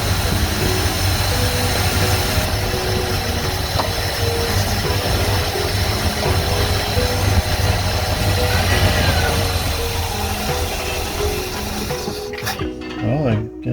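A 1986 Ford F250 truck engine runs steadily at idle up close, a continuous low drone that falters near the end as the engine stumbles on its choke.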